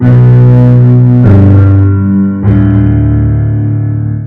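Three loud, warm keyboard chords in D doubled an octave lower by a second layered zone, each sustained about a second with a swirling, chorus-like shimmer.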